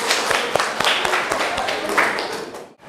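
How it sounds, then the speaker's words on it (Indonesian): A classroom of students clapping their hands together in a short, uneven burst of claps that fades out at the end. "Oke, stop, tepuk tangan."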